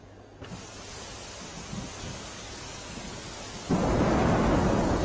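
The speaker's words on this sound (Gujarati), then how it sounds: "માળિયા હાટીનામાં અંધરાધાર વરસાદ" Heavy torrential rain lashes down in Maliya Hatina, Junagadh district, as a steady dense roar with thunder rumbling low, swelling abruptly louder near the end, with no voices.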